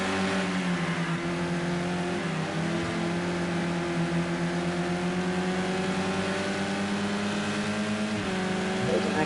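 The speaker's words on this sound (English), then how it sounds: "Proper touring car action going on now." Touring cars race on a circuit, their engines a dense, continuous roar that swells and shifts as the cars pass, loud and steady throughout the whole stretch with no voices.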